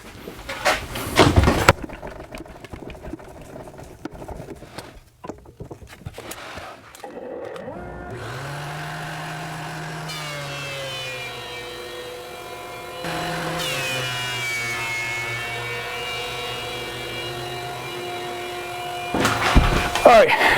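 A power planer flattens one side of a wooden board: after some handling noises, the motor spins up into a long, steady droning whine, with a change in pitch partway through as the cut continues, and then winds down.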